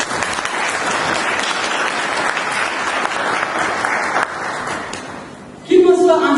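Audience applause fills a hall at a thank-you ceremony for participants, a dense steady wash of many hands clapping that dips briefly near the end before a louder burst returns.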